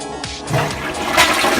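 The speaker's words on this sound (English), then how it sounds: "Flush the toilet." A Toto toilet in a Japanese apartment flushes up close, a loud, continuous rush and gurgle of draining water that fills the short moment on its own.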